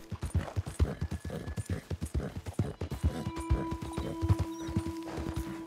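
Horse hooves clip-clop in a steady walking rhythm near a stable in the video game Red Dead Redemption 2, fairly close and even-paced, with a faint steady hum in the background later on.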